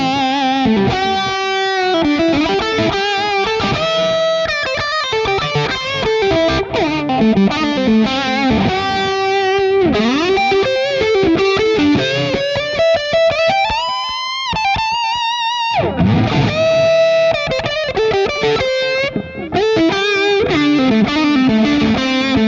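Electric guitar played through the lead channel of a Mesa Boogie Lone Star amp, with no pedals besides a tuner and switcher, producing a warm, overdriven lead line of sustained notes and fast runs, loud and continuous with no talking.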